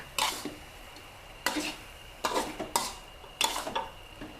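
Pumpkin and egg being stir-fried with a spoonful of sugar in a pan, heard as five separate scraping, clattering strokes of a utensil against the pan, close and moderately loud over a faint background hum.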